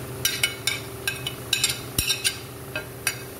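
Carrots tipped into a pan of softened onions and stirred, a spoon clinking and scraping against the pan in short irregular taps, with one low thump near the middle and only a faint sizzle underneath.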